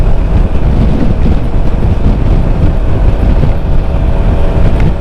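Strong wind batters the microphone on a fast motorbike ride at over 100, producing a loud, continuous low roar and buffeting rumble that fills the clip without any talk.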